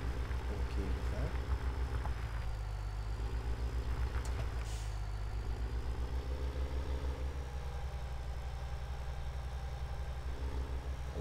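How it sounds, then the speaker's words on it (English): The tractor engine in a farming video game labours under heavy load, a continuous deep rumbling drone with a steady pulsing throb that stays loud and close throughout. "It does have the tractor engine struggling, which is nice"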